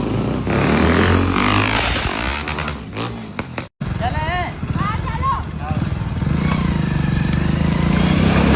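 A motorcycle revs and accelerates hard on a ramp, a loud, close engine roar that drops out briefly and then returns, with people shouting over it.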